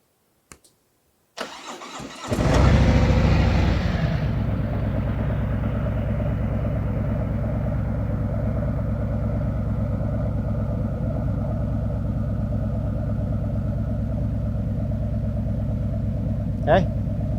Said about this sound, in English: Okay, we're going to go ahead and start the bike.